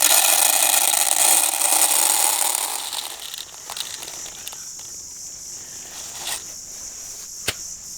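Radish seeds being poured into a container make a steady, close, hissing rattle that fades over the first few seconds, followed by quieter handling noises and a single sharp click.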